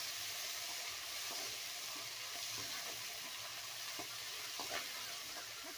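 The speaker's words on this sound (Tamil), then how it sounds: "நல்லா கலந்து விட்டுக்கலாம்." Chopped tomatoes are mixed into a hot pan for a cluster bean curry, a quiet continuous sizzle with soft intermittent scrapes and taps of stirring, no voices.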